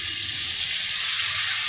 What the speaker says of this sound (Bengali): মাছ ভাজা হচ্ছে, আস্তে আস্তে ভাজা হোক